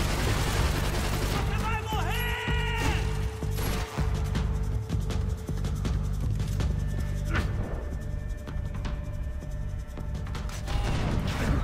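Gunfire in Max Payne 3, with repeated loud shots scattered through dense game action and a low, steady background bed.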